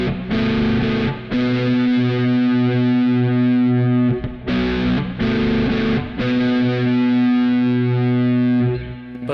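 Electric guitar played through a Kemper Profiler with the gain at maximum: heavily distorted, sustained low chords ring out with two brief breaks between them, loud and alone.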